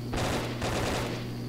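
Automatic weapon fire in the Brick-Force video game, a steady loud rattle of rapid shots in two bursts with a short gap, close and dominant with no talk.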